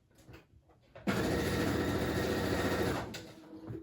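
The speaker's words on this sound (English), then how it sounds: "Well, we'll just sew it across now." Sewing machine stitching across a paper journal page, a close continuous whirring buzz lasting about two seconds before stopping, with faint handling sounds before and after.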